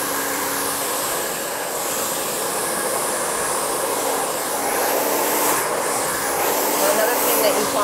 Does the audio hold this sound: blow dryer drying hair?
yes